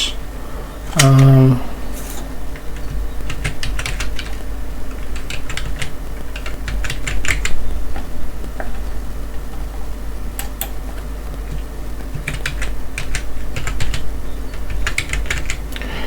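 A password is typed on a computer keyboard during a Kali Linux login inside a KVM virtual machine, producing quick clusters of close key clicks that come in bursts over a steady background hum.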